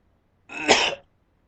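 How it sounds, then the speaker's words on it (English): A single short, harsh cough, close and loud, bursts out of silence and is gone within half a second. "Excuse me for a moment while I cough up a lung"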